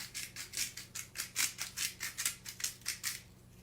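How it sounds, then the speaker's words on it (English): A Himalayan salt grinder cranks salt in a quick, steady run of about a dozen crisp, rasping bursts, close and fairly quiet, with no voices. "I've got my Himalayan salt grinder."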